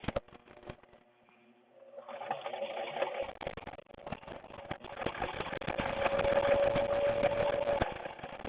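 A sewing machine stitches around the edge of a reusable fabric face mask, starting with a few back stitches and then running forward in a steady, continuous mechanical whir that grows louder and more sustained toward the end.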